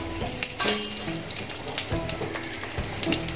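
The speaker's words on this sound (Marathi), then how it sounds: "ते आपण तेल तापत ठेवलंय, जिरं आणि मोहरी टाकते" Cumin and mustard seeds fry in hot oil in a kadhai, a steady close crackle and sizzle with scattered sharper pops throughout.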